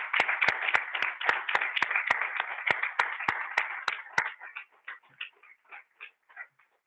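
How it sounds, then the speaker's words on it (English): An audience at the ACSM President's Cup gives presenters a quick round of applause: brisk, even clapping with sharp individual claps that thins out and fades after about four seconds. "we can give you a quick round of applause"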